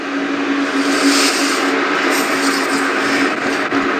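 Motorized bionic flaps on a Mercedes concept car turning in different directions, giving a steady whirring mechanical hum with a constant tone, close and fairly loud throughout.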